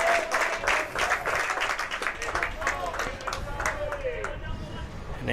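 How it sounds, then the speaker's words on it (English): Crowd at a high school baseball game between Perham and Hawley applauds loudly and steadily for an out caught in right center field, with cheering voices and shouts mixed into the clapping. "And a thunderous applause for an out in that zone of terror for the Nuggets over there in right center field"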